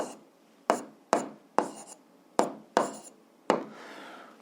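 Handwriting on paper while setting out a school physics problem about biceps muscle force: about seven separate pen or chalk strokes, each a sharp scratchy onset fading quickly, close and clear with no talk.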